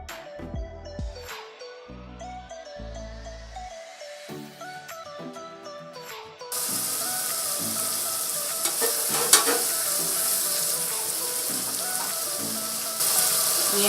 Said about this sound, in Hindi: हमें मसालों को इतना भूनना है कि बस लहसुन और अदरक का कच्चापन चला जाए